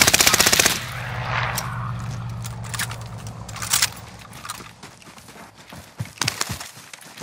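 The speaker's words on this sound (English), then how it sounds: "Where are these dudes shooting us at?" Loud automatic gunfire in Call of Duty: Warzone rattles in a fast burst at the start, followed by scattered shots and clattering movement sounds at closer and farther range.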